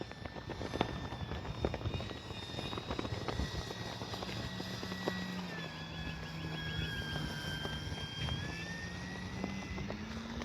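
A Hangar 9 J-3 Cub RC airplane with a 10cc engine flies outdoors, its steady buzzing drone holding throughout with slight pitch shifts as it passes, accompanied by scattered clicks and wind noise.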